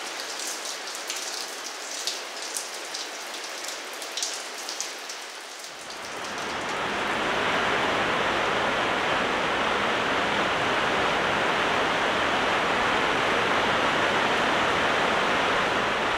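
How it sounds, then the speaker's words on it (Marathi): Heavy monsoon rain pours outside at night. After a quiet stretch it swells quickly into a loud, dense, continuous hiss that holds steady until the end. "मला जागच आता पावसाच्या आवाजाने आली. मस्त कोसळतोय बाहेर पाऊस."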